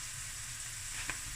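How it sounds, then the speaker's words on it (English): Garlic sizzling in a hot pan for seafood rice, a steady close frying hiss with a faint stir or clink near the end. "Okay, now I'm going to add my garlic."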